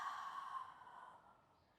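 A slow, breathy exhale during a yoga exercise, soft and close, trailing off gradually over a couple of seconds.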